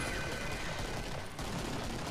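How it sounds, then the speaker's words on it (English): Constant rapid gunfire in the shooter game Killing Floor, a loud, unbroken wall of overlapping shots with a brief dip midway, heard without speech. "I'm just shooting!"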